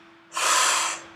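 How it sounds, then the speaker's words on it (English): A single forceful exhale pushed out through the mouth, a short breathy whoosh lasting about half a second, close and alone in a quiet room. "then you're going to forcefully exhale out through your mouth"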